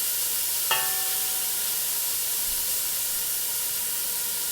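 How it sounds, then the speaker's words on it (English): Bacon fat rendering in a pan for Southern-style BBQ beans, a constant bright sizzle and hiss with a single brief clink early on. "That bacon fat is rendering nicely."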